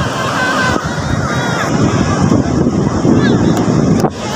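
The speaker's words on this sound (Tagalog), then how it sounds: "di talaga sobrang lalaki ng alon no" Large ocean waves surge and crash in a steady, loud roar, heavily buffeted by wind noise on the microphone, with no clear break between swells.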